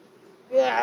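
A loud buzzing of honey bees swells up close in the second half during a hive inspection, following a low murmur of background noise.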